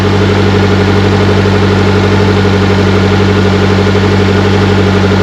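A car engine idles loudly and steadily with the heater on full while being checked for a small coolant leak, a constant low hum with a faint regular pulse, and no talking.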